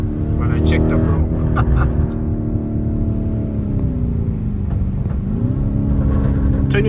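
Deep engine drone from a 2022 Lamborghini Urus fitted with a Novitec exhaust, a loud steady rumble heard from close by, with the pitch dipping and rising again as the revs shift, and a voice talking over it.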